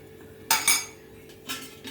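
A metal spoon clinks and scrapes in a pan while a tempering of cumin, mustard seeds, garlic and coriander is stirred for dal, giving a few sharp, close clatters with quiet pauses between.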